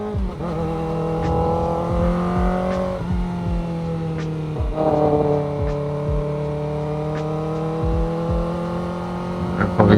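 A motorcycle pulls away and accelerates through repeated gear changes, its engine rising in pitch, dropping, then climbing again, loud and close with wind noise.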